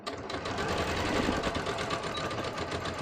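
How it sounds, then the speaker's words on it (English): Sewing machine running steadily as it stitches a garment facing, a continuous close mechanical whir with even rapid needle rhythm for about three seconds, no talking. "So I'm just going to sew this."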